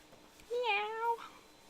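Kitten meowing in the Conquests of the Longbow video game: a single clear, drawn-out meow of about half a second, rising then falling, over a quiet background.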